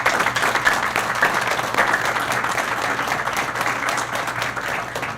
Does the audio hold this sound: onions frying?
no